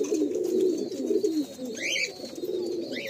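A Madrasi pigeon coos in low, rolling throaty murmurs that run steadily close by, with a few faint chirps from other birds in the background and no talking.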